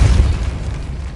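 A Repulsor spell blasts in Hogwarts Legacy with a deep, close boom at the start that quickly thins into a fading rumble.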